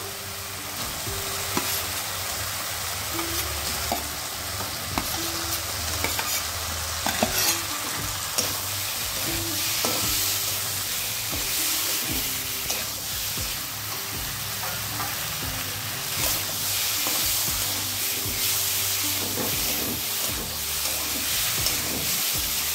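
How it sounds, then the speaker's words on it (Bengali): Spiced potatoes frying and being stirred in a pan for an eggplant dish, with steady sizzling and repeated scraping strokes that stay close and continuous throughout, without any talking. "এবার মশলার সঙ্গে আলুটাকেও কষিয়ে নিচ্ছি।"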